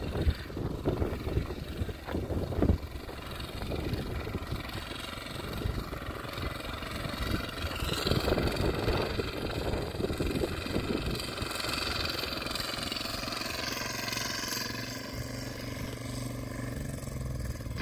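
A rotavator tiller's engine runs steadily throughout, a continuous rumbling drone with rattling texture that swells slightly midway, moderately loud and with no voices.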